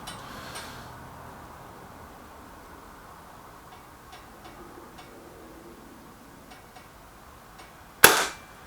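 A single sharp crack from a Kral Nish air rifle rings out near the end, close and sudden after a long stretch of quiet room tone with faint clicks.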